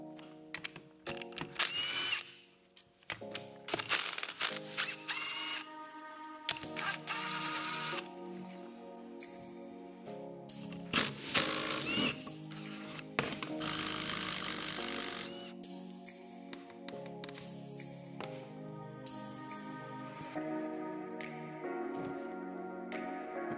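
Power tool work on a motorcycle, removing foot pegs bolted to the bottom of the motor: bursts of an impact driver or drill whirring and rattling in short runs with pauses, close and fairly loud, no speech.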